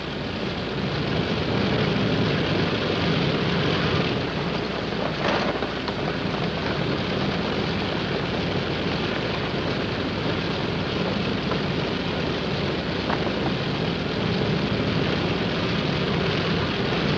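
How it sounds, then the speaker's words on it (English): A plane carries wounded troops away from a reservoir during the Korean War. A steady, dense engine drone with wind rushing over it plays continuously and loudly throughout, with no voices. "And the casualties go out by plane."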